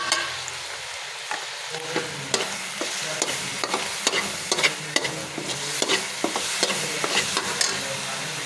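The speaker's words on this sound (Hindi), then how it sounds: "इसे भी हम अच्छे से भूनेंगे" Panjiri made from spoiled milk is stirred and roasted in desi ghee in a pan, with a soft steady sizzle and a rhythmic series of spoon scrapes and taps about twice a second, close and fairly quiet, with no talk.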